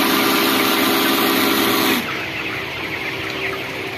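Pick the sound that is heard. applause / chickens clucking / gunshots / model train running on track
chickens clucking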